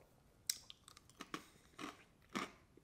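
Crisp crunching from someone chewing Clancy's Pub Style Bold & Zesty salted pretzels, a handful of sharp bites and crunches spaced irregularly, close and fairly quiet, with no talking.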